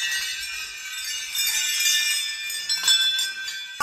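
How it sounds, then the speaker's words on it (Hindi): Small temple bells hung all along a mountain trek path to Badhangarhi Temple in Chamoli jingle and tinkle in bright, continuous high ringing, with a slightly fuller clink near the end. "बहुत ही सुंदर आगे आगे तक घंटियाँ बांधी हुई हैं पूरी जगह पे।"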